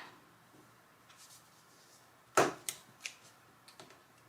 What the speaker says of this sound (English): And then I'm going to cut this one off.